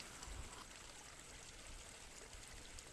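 The Moor River stream flows beside a walking path near the Viking Trail in Newfoundland, a faint, steady outdoor rush of moving water with soft low rumbles and no voices.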